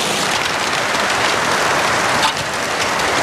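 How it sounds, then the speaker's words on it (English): Heavy rain pours down in Australia in a dense, steady hiss, loud and continuous without pause, and no one speaks. "This hardly ever rains as heavy here."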